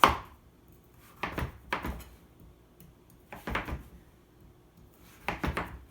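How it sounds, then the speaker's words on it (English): A knife thuds through firm butternut squash onto a cutting board in a few separate bursts, close and distinct against quiet. "So I'm going to cut it up in pieces about that size."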